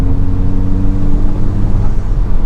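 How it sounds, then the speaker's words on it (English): A 2021 Honda Civic Type-R running in race mode under turbo boost, its engine a steady, loud in-cabin drone with low-end rumble held throughout, no voices over it. "I heard the turbo noise too."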